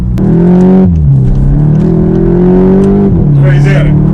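Mk8 Volkswagen Golf GTI, front-wheel drive and stock, making a hard launch: a loud, close engine drone climbs in pitch, drops at a gear change, then climbs again, with a voice speaking near the end.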